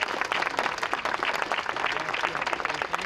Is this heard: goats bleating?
no